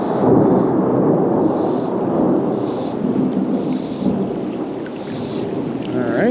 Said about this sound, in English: it decided to rain here at this next little river that I stopped at.